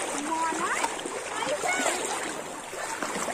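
Someone dunks and splashes in clean floodwater during the 2021 Rampur flood, producing irregular nearby splashes and sloshing under constant chatter from people talking.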